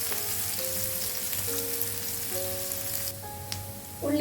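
Onions sautéing in a pan for a Kerala-style meal give a steady, close sizzle and crackle that runs the whole time, with a few faint sustained tones underneath and a brief rise at the end.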